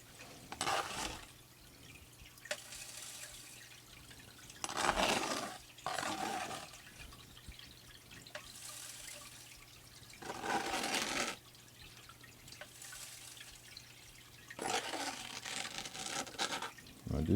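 A gold sluice runs with flowing water, and dirt is dumped in during a Kenai gold sampling session: a faint continuous trickle and rush, with several louder splashing surges as loads go in.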